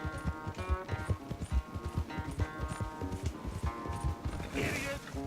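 Horse hooves galloping in the Red Dead Redemption 2 video game, a rapid continuous clip-clop rhythm at close range with game music and effects layered over it.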